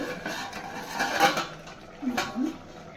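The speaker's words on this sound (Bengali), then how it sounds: "ঢাকাটা তুলে দিচ্ছি পুরো সেদ্ধ হয়ে গেছে" A metal lid lifted off a cooking pot of spiced jackfruit curry, a couple of short clinks and scrapes close by, with soft background noise between them.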